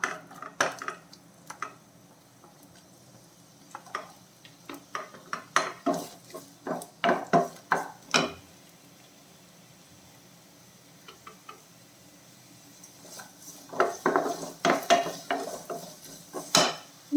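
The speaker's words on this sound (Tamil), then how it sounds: "வதங்கட்டும், வெங்காயம் கொஞ்சம் வதங்கட்டும்." Chopped onions and dried chillies sauté in oil in a metal pan over a faint sizzle, with clusters of sharp spatula scrapes and clinks in bursts separated by quieter stretches.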